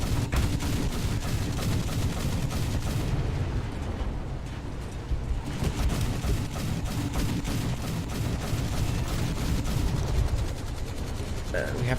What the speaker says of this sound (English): we're firing our AP shells here